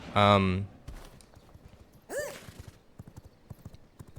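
Horse in the video game V Rising gives a short whinny, then a whooshing movement sound, followed by a run of quick, light hoof clip-clops at close range.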